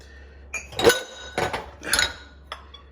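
Dishes and bowls clink and clatter in a few separate bursts as they are pulled from a dishwasher's racks after a wash with Finish Quantum detergent, close and fairly loud with no talking.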